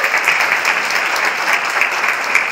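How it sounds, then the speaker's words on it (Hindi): A group at an open house discussion in a meditation hall applauds a team with loud, sustained, even clapping that fills the room with no break and no talk. "अपनी टीम के लिए जोरदार तालियां।"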